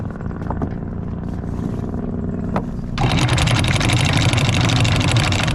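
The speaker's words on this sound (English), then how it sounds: "we got about a 2-hour motor across this across Concepcion" A boat motoring across Concepcion Bay, its engine droning steadily and close, then growing suddenly louder and rougher partway through as the motor revs up.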